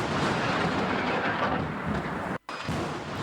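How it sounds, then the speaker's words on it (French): Heavy thunder during a strong rainstorm rumbles continuously with a dense rushing roar, cut by a brief silent gap near the end before the rumbling resumes. "De la forte pluie, mais aussi de la foudre."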